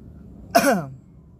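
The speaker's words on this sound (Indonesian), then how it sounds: "Aduh batuk lur, maaf." A single short cough from a nearby person, a quick burst lasting about half a second, with no talking around it.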